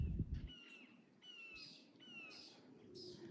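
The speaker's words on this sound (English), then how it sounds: "As the birds are screaming in the sky." Several birds calling in a summer morning vegetable garden, with repeated short chirps and whistled notes at moderate distance over a low, steady outdoor background.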